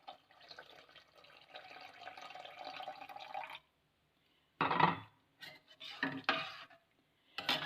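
Tamarind juice poured into a pot of sambar: a steady liquid pour for a few seconds, then short clattering bursts of a utensil stirring and scraping the pot, close and without talk.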